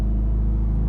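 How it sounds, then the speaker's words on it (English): Mitsubishi Evo 9 with a full titanium exhaust, deep steady engine rumble from inside the cabin, heavy low-end drone with a pulsing exhaust note, brief and constant. "The exhaust tone sounds so good"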